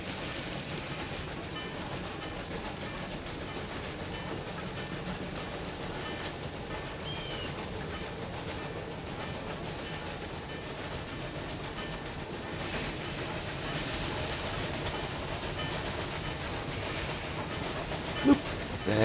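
A train runs along the track in the video game Railway Empire 2, a continuous rumbling roll with faint rhythmic clacking that swells slightly near the end, with no talk over it.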